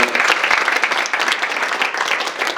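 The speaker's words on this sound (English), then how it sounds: "So I give her another hand of applause here" Audience applause fills a franchise summit hall, a dense, steady wash of many hands clapping throughout without a break.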